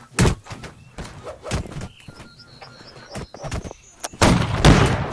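Gunfire in the multiplayer video game Holdfast: several loud, sharp shots crack out at irregular intervals, with a heavier cluster of blasts near the end.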